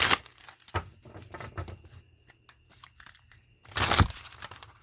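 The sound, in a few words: shuffling a deck of tarot cards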